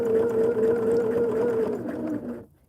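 A sewing machine stitching quilt hexie pieces, a steady close motor whir with rapid needle rhythm that runs for over two seconds and then stops abruptly.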